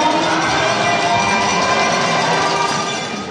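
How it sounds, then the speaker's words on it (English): Big crowd roaring at a junior hockey game in Campbell River, a dense, steady wash of cheering and chatter that holds loud throughout, with no single voice standing out. "Another big crowd in Campbell River."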